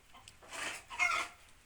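Chickens and young roosters on a Ukrainian home farm cluck in two close, fairly loud bursts, the second slightly stronger, with no one speaking.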